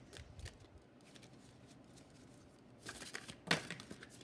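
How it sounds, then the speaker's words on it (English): Tarot cards are shuffled in soft, quiet bursts of riffling and papery flicks, with a sharper snap near the end and faint handling sounds between the bursts. "We're going to just shuffle these cards."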